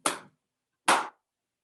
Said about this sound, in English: And then you could add clapping the beat in place while you're stepping it.